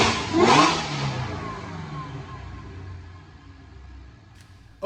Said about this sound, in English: We're going to watch a dyno pull.